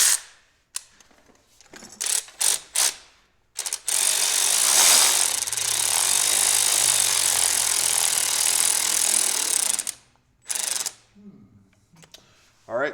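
An impact-style power tool runs a bolt down snug in a long continuous rattling burst of about six seconds, bracketed by short clicks and brief tool blips, with a short burst again near the end.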